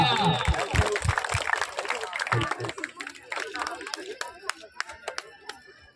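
A crowd at an Ambedkar Jayanti celebration claps for a child named Ayush. Dense, loud applause mixed with voices thins into scattered individual claps toward the end.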